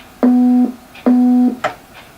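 A telephone busy signal from a Casio ToneBank MA-101 keyboard, loud and clean: two steady electronic beeps of equal length, then a short chirp, with no voices.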